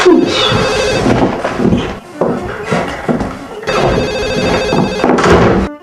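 A telephone rings in repeated electronic bursts, loud and close, over busy background sound with some voices.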